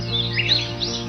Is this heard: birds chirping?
yes